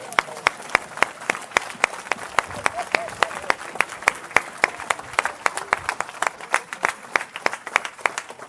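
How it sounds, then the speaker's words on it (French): Church congregation clapping together in a steady, rhythmic beat, loud and close, with faint voices mixed under the applause throughout. "On acclame le Seigneur."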